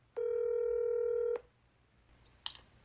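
Mobile phone dialing on a call: one long steady tone sounds clearly for just over a second and cuts off sharply, followed by quiet room noise and a faint brief click, with no speech.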